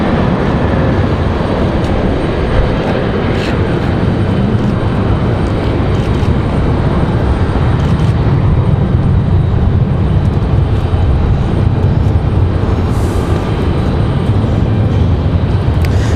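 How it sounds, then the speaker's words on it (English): A JetBlue Airbus A320 departs Raleigh-Durham International heavily loaded, bound for San Juan. Its engines give a loud, sustained, close roar and rumble that stays steady and dense for the whole stretch. "Beautiful A320. Good sounding departure."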